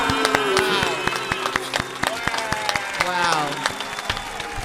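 An audience applauds following a jazz saxophone performance, with sharp, scattered claps over steady crowd noise and voices talking and cheering throughout.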